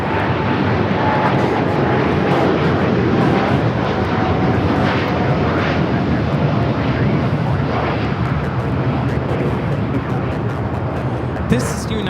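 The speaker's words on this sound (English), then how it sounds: "198 taking off to Shanghai on the 787-9 Dreamliner." A United Airlines Boeing 787-9 Dreamliner takes off from Los Angeles International Airport, a steady, loud broadband jet roar holding throughout with a faint tonal whine, with no one speaking over it.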